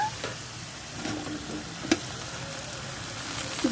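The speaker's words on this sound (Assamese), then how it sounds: "জিকা আৰু বিলাহী একেলগে দি দিলোঁ ভালদৰে লৰাই দিওঁ" Ridge gourd frying with potato and tomato sizzles steadily in a pan, with a few soft knocks of the spatula as it is stirred.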